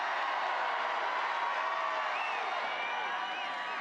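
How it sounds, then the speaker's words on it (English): A large crowd at a campaign rally in Reading, Pennsylvania gives off a dense, steady roar of many overlapping voices at a distance, with faint scattered cheers running through it. "There's a very big crowd."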